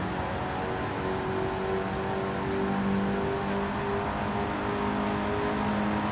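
A Mercedes race car in Gran Turismo 7 holds a steady, loud high engine drone under nitrous boost, its pitch climbing slightly as it pulls hard for several seconds.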